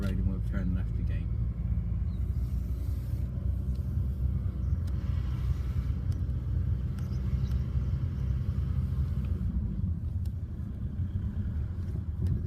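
A car pulling away during a driving lesson: a steady low engine rumble and road noise inside the cabin, continuous throughout, with an instructor talking over it.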